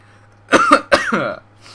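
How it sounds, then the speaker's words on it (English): A person coughs while drinking Gatorade, two or three sharp throaty bursts followed by a short rasping throat-clearing, close and loud in a quiet room. "I was coughing"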